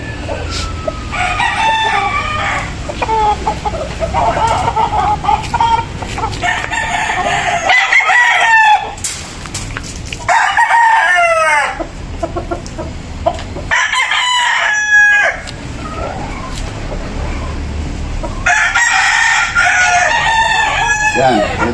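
Gamecocks and stags at a fowl expo crow again and again, loud and close, with clucking and a steady crowd murmur underneath.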